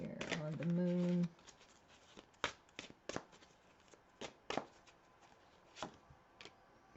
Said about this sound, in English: Let's pull some cards here on the Moon.